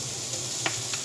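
Red onions sizzle softly in a pan over a fire, a faint steady crackle with a couple of small pops, alone.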